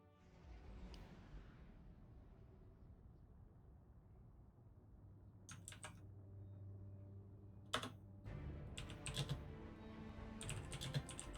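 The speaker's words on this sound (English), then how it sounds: "I will mute my obnoxiously loud keyboard." Loud computer keyboard typing runs steadily throughout, with sharp key clatter bursts and a bright spike near the end over low background hum, during a Destiny 2 livestream on PS5.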